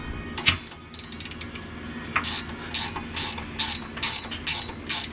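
A ratchet wrench loosens bolts on a vehicle during pinion angle work. It gives bursts of quick metallic clicking up close, first rapid short runs, then a series of regular, evenly spaced ratcheting strokes.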